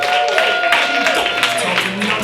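A comedy club audience claps and cheers for a comedian taking the stage, a brief burst of applause under a host's voice.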